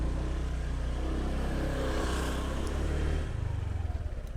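A 125 cc motorcycle engine runs close by with a dense, steady roar, then its tone shifts and loosens into a lower, choppier throb near the end.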